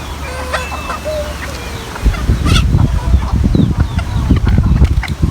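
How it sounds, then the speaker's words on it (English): Chickens cluck and squawk in a busy outdoor flock, with scattered sharp calls and a bird crowing briefly amid rustling. "Look at the chickens."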